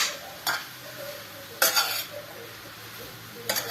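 Leeks sautéing in olive oil in a pot, a soft steady sizzle with a few sharp clinks of a utensil against the pot.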